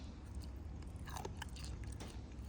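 Crunchy chewing of fried fermented pork (naem) with soft rib bones, close and steady with crisp bites throughout, alone without talk.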